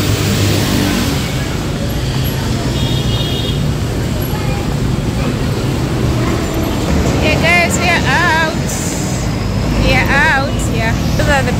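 Bus traffic on Dar es Salaam's BRT corridor in Tanzania, a steady roadway rumble of engines with passing vehicles throughout, bright squealing brake or horn-like tones near the end.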